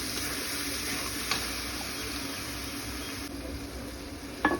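Garlic paste sizzling steadily in a hot pan with oil, a continuous close frying hiss with a couple of brief clinks partway through and near the end.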